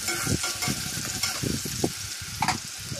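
Potatoes for ghugni fry in a pan at home, a steady close sizzle broken by several scraping stirs and small clinks of a spatula, with no voices.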